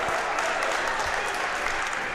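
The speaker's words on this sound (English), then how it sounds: "And this crowd's starting to come alive here in the second half." Basketball crowd cheering and applauding during the second half of a men's college game, Riverhawks at Dundalk Lions, a steady dense wash of clapping and crowd noise filling the gym throughout.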